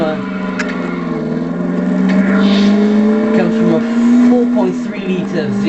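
Aston Martin V8 Vantage with its 4.3 litre V8 engine, a loud, close, throaty drone whose pitch climbs steadily as it pulls, then eases off near the end.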